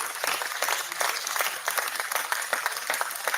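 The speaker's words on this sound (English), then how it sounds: "Clapping noises. Clapping noises." A group gives a round of applause for a strong sign-up count, with dense, continuous clapping that holds at an even level throughout and no talk over it.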